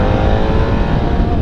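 A 2017 BMW F800GS Adventure motorcycle's 800 cc engine pulling hard in second gear, a loud continuous drone close to the rider with steady wind rush.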